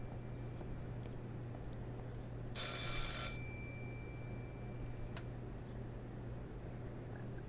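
A telephone rings in the video game Martha Is Dead: one bright, buzzy ring burst lasting under a second, then a faint click, over a steady low hum and quiet background.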